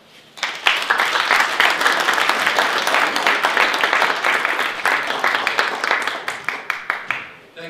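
An audience in Calgary breaks into sustained applause to welcome a speaker onto the stage. Dense clapping from the whole room starts abruptly, holds steady for several seconds, then thins out toward the end.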